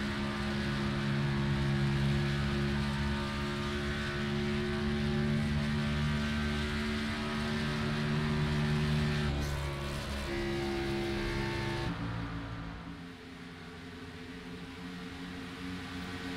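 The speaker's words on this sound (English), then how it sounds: "And you can hear him throttle." Stock car engine on the Atlanta oval droning steadily with sustained harmonic tones, the throttle easing and shifting pitch midway before dropping to a lower, quieter hum near the end.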